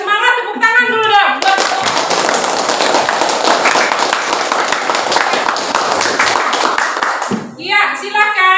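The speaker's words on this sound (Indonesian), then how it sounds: "Biar semangat, tepuk tangan dulu dong." A classroom of students bursts into loud, dense applause that lasts several seconds, with a teacher's voice heard just before and just after the clapping.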